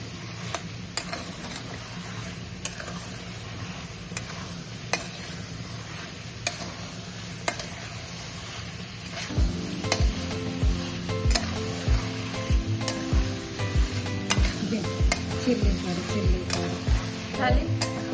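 Mushroom chilli is stirred in a pan, with scraping and tapping ticks that get busier and louder partway through, set against a steady background hum.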